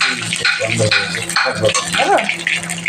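A torn dried red chili fries in hot oil as a tempering, giving an irregular crackling sizzle with a few clattering pan sounds while someone talks nearby.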